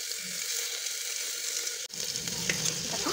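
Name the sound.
vegetables lightly frying in hot oil with cumin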